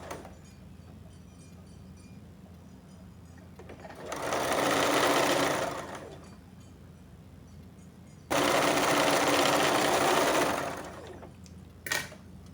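A sewing machine stitches a blouse strip in two loud bursts of rapid whirring separated by quiet pauses, followed by a brief click near the end, with no one talking.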